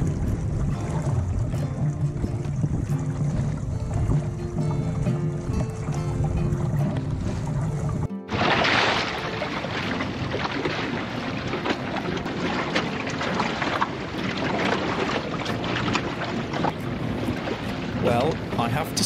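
A sailboat under a well-set sail moves at sea on a hot day, with a loud, steady rush of wind and water that breaks off briefly partway through, then returns just as full.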